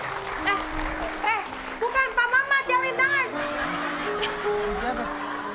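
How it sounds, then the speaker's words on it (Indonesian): A studio audience at an Indonesian comedy show, Funtastik, gives a round of applause. The clapping is steady and moderately loud, with a voice, shouts and a little laughter over it. "kita sekali lagi tepuk tangan untuk Pak Mamat"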